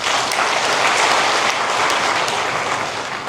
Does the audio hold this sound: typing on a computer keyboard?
no